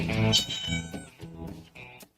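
A house cat meows several times in quick succession, loud and close, the drawn-out cries stretching over about two seconds before cutting off.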